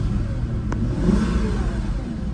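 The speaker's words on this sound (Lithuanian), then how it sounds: "Variklis dirba puikiai." A used convertible sports car's engine runs at a steady idle, a close, even mechanical hum with a light whir and no voices.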